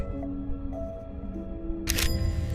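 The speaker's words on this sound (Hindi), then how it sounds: "उसका कैमरा अचानक खुद ब खुद घूम जाता है और रिकॉर्ड करने लगता है" A camera swivels on its own and starts recording in a haunted basement: a low hum with faint tones, then a sudden sharp mechanical burst near the end.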